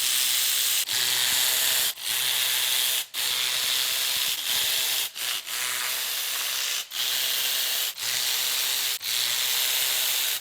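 Hand tool work on a Toyota 1UZ V8 engine, taking out 10 mm valve cover bolts, gives a steady harsh rasping ratchet noise broken by short pauses about every second, close and loud, with no talking.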